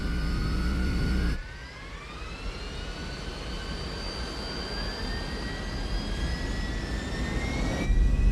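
Twin jet engines of an airliner spooling up on the runway for takeoff, a loud, steady roar with rising whine tones building over several seconds and growing louder near the end.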